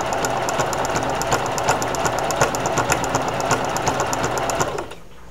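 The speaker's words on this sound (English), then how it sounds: "We're almost done sewing this part." A sewing machine stitches fabric for a hair-related project, running loud and close with a fast steady mechanical chatter and rhythmic needle knocks, then slowing and stopping near the end; no voices.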